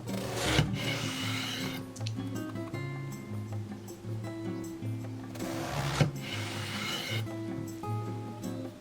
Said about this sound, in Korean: 가지는 필요 없는 밑둥 자르고 두툼하게 3등분 해줬다.